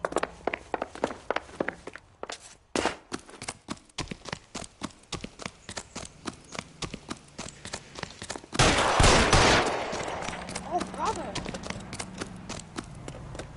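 Rapid gunfire from a PS4 video game crackles in quick irregular bursts, shifting into a loud sustained blast partway through and then thinner scattered shots, with game dialogue voices mixed in.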